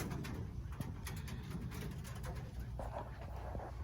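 Mearns quail in a pen give low cooing calls that repeat softly under a busy background of rustling and faint chatter.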